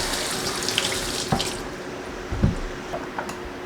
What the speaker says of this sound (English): I'm gonna give each of these zucchini a rinse.